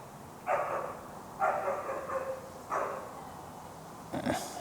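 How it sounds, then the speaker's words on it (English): A dog barks four times at a steady pace, the barks fairly loud and a little distant, with no talking. "I want to know why that dog's barking at me."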